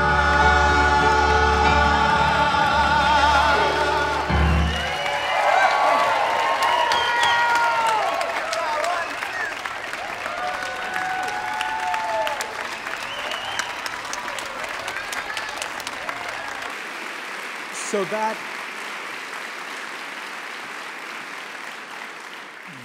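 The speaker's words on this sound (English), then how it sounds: "that round of applause belongs to the Skid Row community" Sustained audience applause fills a large conference hall at an opening plenary session, loud and dense at first, then thinning into scattered claps with occasional voices.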